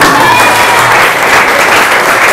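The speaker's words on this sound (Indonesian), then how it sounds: "Tepuk tangan." Audience applause at a school talk show at SMP 5 Denpasar in Bali: a dense, loud burst of clapping from a crowd of students that fills the whole stretch without a break.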